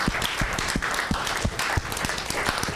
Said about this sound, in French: Acclamez le Seigneur. Applaudisseer voor de Heer.